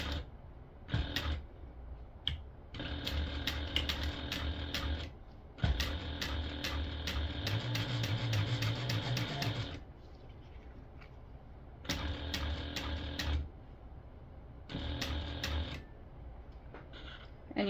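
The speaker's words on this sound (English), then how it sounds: "we're going to sew the pocket on using a 1/8 inch seam allowance" A sewing machine stitches a pocket onto a clear vinyl stadium bag in several bursts of rapid, even whirring, each stopping for a few seconds of quiet before it starts again, close and fairly faint.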